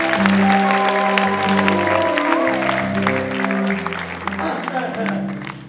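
A church congregation claps, with scattered clapping running beneath loud, sustained voices throughout.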